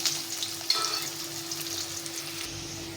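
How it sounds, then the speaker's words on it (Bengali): Diced potatoes fry in hot oil with a continuous close sizzle and bubbling crackle, plus a faint steady low hum. No voices. "এখন আমি প্রথমে আলুটা একটু ভেজে নেব।"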